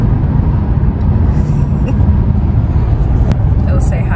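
A car being driven on the road, a steady low engine and road rumble heard from inside, loud and constant, with voices talking over it.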